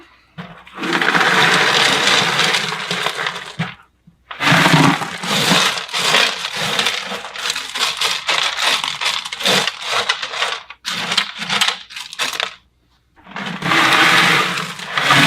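Loose substrate is poured and spread inside an Exo Terra frog terrarium, making close, loud gritty crunching and rustling in long bursts separated by brief pauses.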